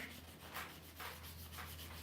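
Sandpaper rubbing back and forth over a wooden knife handle, a steady scratchy hiss in repeated strokes, close and quiet, with a low constant hum beneath.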